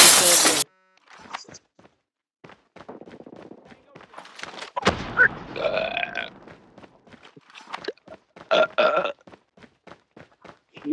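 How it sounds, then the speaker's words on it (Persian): A series of deep, croaky burps rises and falls over several seconds, close to the mic, separated by quiet gaps, with clicks and breathy noises between them. "من میدونم آروغه"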